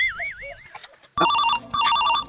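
Telephone ringing in a comedy sketch: a warbling electronic tone, then a brief pause and two loud bursts of a trilling ringtone up close.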